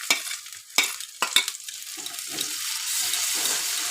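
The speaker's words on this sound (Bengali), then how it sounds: "এটা একটু কষিয়ে নেব" A ground cumin paste is added to fried onion, garlic and ginger for a fish curry with new potatoes, opening with a few sharp clatters of a spoon, then a soft, steady sizzle building up close by.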